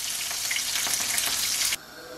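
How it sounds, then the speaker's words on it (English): Meatball and vegetable kebabs on skewers frying in a pan give a loud, bright, continuous sizzle that cuts off abruptly near the end. "Now we are going to fry our kebabs."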